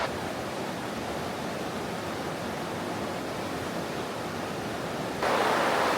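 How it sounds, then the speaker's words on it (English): Loud rushing water at a tourist site in China, a dense, constant roar of churning water close by that swells even louder near the end, with no voices audible over it. "The water is so loud."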